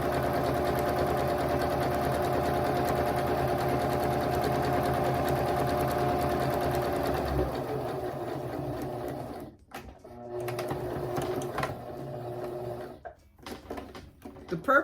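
Sewing machine stitching a king-size pillow sham, a steady close mechanical whirring hum that runs for several seconds, then slows and stops with short pauses and handling clicks.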